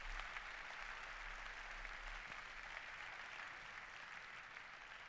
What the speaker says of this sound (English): I think that's worth a round of applause for a start